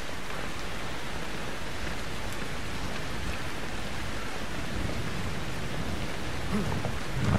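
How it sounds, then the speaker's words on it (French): Steady, dense rain pours in the horror video game Outlast 2 during a rain of blood, a loud unbroken hiss of downpour with no voices. "Toujours sous la pluie de sang"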